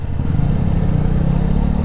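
A Honda Rebel 300 ABS motorcycle engine idles steadily up close, a constant low throbbing rumble with a slightly rattly, lawnmower-like character and no pauses.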